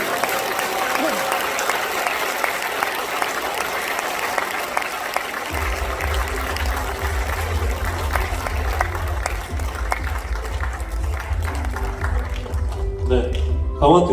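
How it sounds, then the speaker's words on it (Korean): Dense, sustained applause from a large audience at the launch ceremony for Gangwon Special Self-Governing Province fills the hall, with a low rumble of music entering partway through as a host speaks over it. "여러분 큰 박수로 맞아주시기 바랍니다."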